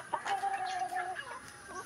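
Chickens cluck close by in a short burst of clucking calls, one hen's call rising clearly above the others.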